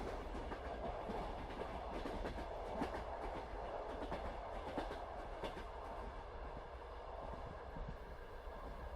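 A train carriage rolls along the rails on a winter night journey, with a continuous low rumble and a soft, regular clickety-clack running steadily throughout, heard from inside with no voices.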